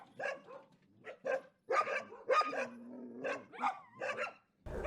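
Stray dogs in Gori, Georgia bark in a string of sharp, close yaps and yips with short gaps between them, plus a brief whine partway through; nobody speaks.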